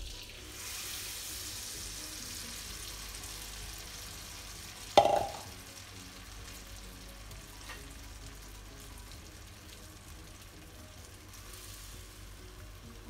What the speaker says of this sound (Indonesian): Lalu tumis bumbu yang sudah dihaluskan.